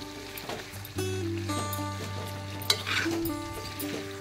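Chicken sizzles and crackles as it fries uncovered in a pan without water, stirred now and then, with a steady droning hum running underneath.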